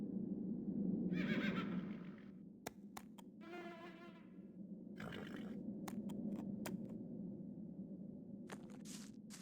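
Horses neigh in the video game The Black Mirror: two separate whinnies rise over a soft outdoor ambience, followed by a few faint clicks and knocks.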